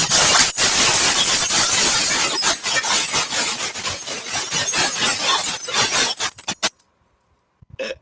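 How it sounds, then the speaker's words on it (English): Glass shatters and breaks repeatedly, with loud crashes and clinking shards and some jangling, filling most of the stretch before an abrupt drop to near silence. "Why is there glass breaking?"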